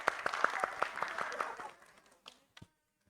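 An audience at a health talk show claps in a short burst of applause that fades within about two seconds, leaving a few scattered final claps.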